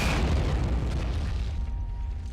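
A heavy artillery blast in the war video game Men of War booms and rolls out, a deep rumbling explosion that slowly fades over a couple of seconds.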